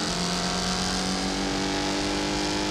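Race car engine in the Wreckfest driving game, revving hard and held high while stuck in the wrong gear, a loud, steady strained drone with constant tyre and road noise.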